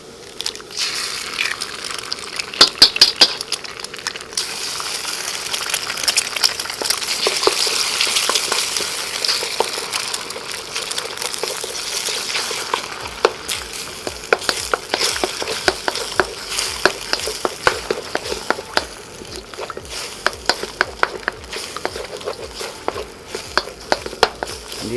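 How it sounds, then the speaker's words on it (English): Eggs drop into a hot pan for Asian-style zucchini noodles, and a strong sizzle and crackle rise and continue, with scattered pops and spatula scrapes as they fry. "Gonna go ahead and drop in our eggs."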